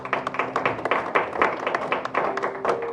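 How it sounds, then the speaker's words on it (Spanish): A small church congregation claps, a steady patter of overlapping hand claps with a faint tonal hum in the room. "Vamos a darle un aplauso al Señor"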